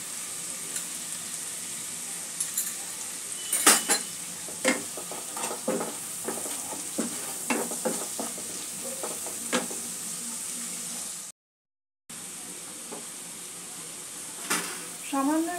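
Spice paste for a Bengali Pabda fish curry sizzles in a pan as it is stirred and sautéed, a steady hiss broken by scraping strokes of a spatula, with a voice speaking at times.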